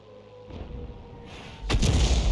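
Shot from a 105 leFH18B2 self-propelled artillery gun in a tank video game, after a low engine hum: a single heavy booming blast, close and loud, with a rumbling tail.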